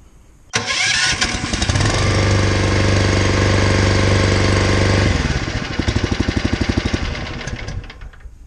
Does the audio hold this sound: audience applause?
no